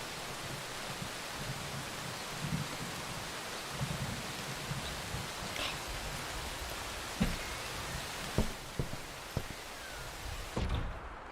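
Rain falls steadily outside in the forest game Among Trees, a constant soft hiss heard from indoors, punctuated by scattered low knocks and thumps, with a door-like clunk near the end.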